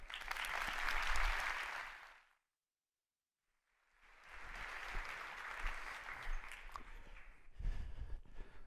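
Audience applause welcoming a speaker at a conference talk, a full room clapping loudly, pausing briefly in silence, then resuming for several more seconds.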